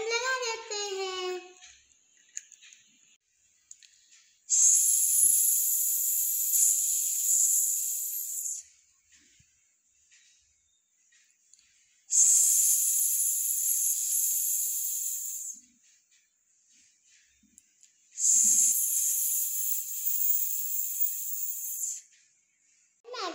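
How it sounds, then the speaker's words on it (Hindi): A pressure cooker cooking dalma, the lentil and vegetable dish with salt and spices, whistles in three long, loud bursts of hissing steam, with quiet gaps between them and no talk. "सिटी आ गया, अभी डालमा बन गया है।"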